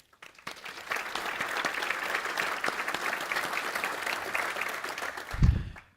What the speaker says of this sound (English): let's give them a round of applause for their time and their energy